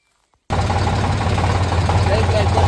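After a brief near-silence, a tractor loaded with fodder rumbles loudly at idle, its close, even engine throb continuing steadily to the end.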